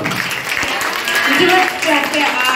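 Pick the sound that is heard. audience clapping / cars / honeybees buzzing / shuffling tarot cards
audience clapping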